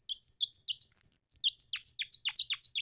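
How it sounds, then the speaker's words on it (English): A handmade Audubon bird call gives off rapid series of high, squeaky chirps, close and clear, with a short pause before a second longer burst of twittering. "They even sent me an Audubon bird call, which has been handmade for the last 60 years."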